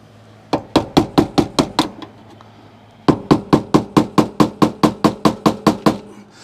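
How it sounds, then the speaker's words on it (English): A hammer tapping a flat-head screwdriver to set a lock nut on HVAC equipment, two quick runs of sharp, evenly spaced metallic knocks, seven then about fourteen, loud and close. "the way that you do that is with a flat-headed screwdriver, or a slot screwdriver, and a hammer."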